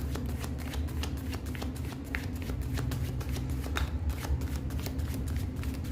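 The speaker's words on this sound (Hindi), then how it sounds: "पहले शफल करूँगी।" Tarot cards being shuffled by hand in a steady, continuous riffle of rapid flicking card sounds, close and fairly loud throughout, with no talking.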